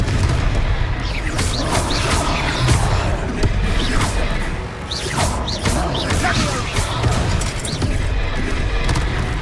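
Confringo blasting spell in Hogwarts Legacy, a dense, loud wall of explosive booms, crashes and clattering impacts that runs without a break over heavy low rumble.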